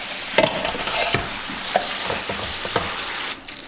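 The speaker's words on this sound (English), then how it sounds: "you can give them a good rinse" Dry pinto beans being rinsed and stirred in water, a steady broadband wash of swishing and trickling with occasional sharper clicks of beans, close and fairly loud throughout, ending in a brief quieter moment.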